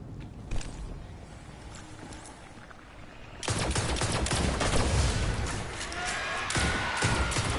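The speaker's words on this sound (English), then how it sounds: "the exploding enemies on the Vex. I miss this so much because it's just a wonderful sound" Vex enemies exploding in a shooter video game: dense bursts of crackling blasts and gunfire that jump sharply in loudness midway and keep rattling to the end, with game ambience beneath.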